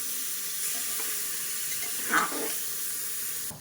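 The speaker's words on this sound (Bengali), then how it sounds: "ভালো করে নেড়ে নেব।" Food frying in a pan hisses and sizzles steadily, with a brief scrape from stirring partway through.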